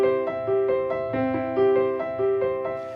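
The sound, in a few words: piano playing Bach's Prelude No. 1 in C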